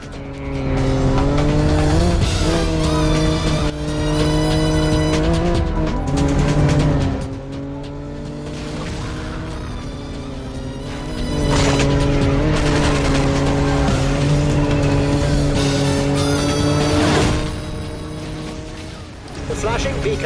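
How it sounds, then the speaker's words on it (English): An Aston Martin in the PS2 game James Bond 007: Agent Under Fire, its engine droning steadily and loud with tyres squealing through corners, the tone rising and falling over about twenty seconds, and a voice talking over it. "This car's not good at cornering. I'm guessing this is supposed to be an Aston Martin"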